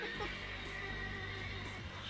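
Horse neighing in the video game The Legend of Dragoon, a short loud whinny with clip-clop hoofbeats beneath, close and continuous under game music.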